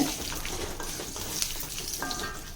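Green chillies and three dried red chillies sauté in a pan for an Andhra-style gooseberry pachadi, giving a steady, close frying sizzle with light stirring scrapes throughout.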